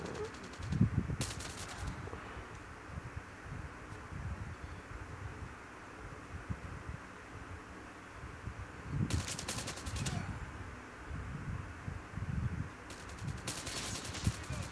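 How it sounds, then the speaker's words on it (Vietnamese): Rapid bursts of automatic gunfire in Call of Duty: Mobile come in short volleys over a low rumbling background, fairly quiet overall. "cái này là bắn tự động mọi người cứ dí súng vào nó là bắn thôi"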